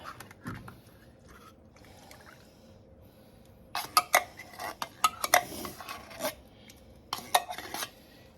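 Spoon stirring milk into a pan of scalloped potatoes, quiet at first, then a series of sharp metallic scrapes and clinks against the pan in irregular bursts.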